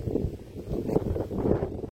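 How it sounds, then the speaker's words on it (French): Low rumbling storm wind buffeting the microphone in gusts near Lourdes, a dull roar that swells and dips over a couple of seconds. "Il faisait tellement de vent."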